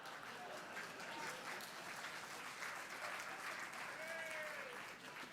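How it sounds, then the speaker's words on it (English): A lecture audience claps steadily and evenly throughout, with faint whoops and cheering mixed into the dense applause at a talk about catching smugglers. "Somebody very brave out there cheering."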